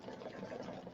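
Sewing machine stitching fabric for a pillow project, a soft, fast, continuous mechanical whir with steady rapid needle rhythm, quiet and unbroken.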